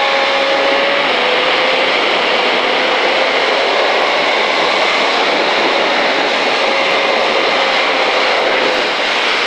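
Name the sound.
2005 KTM Superduke motorcycle engine accelerating out of a corner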